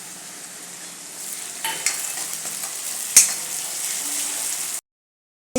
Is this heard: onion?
yes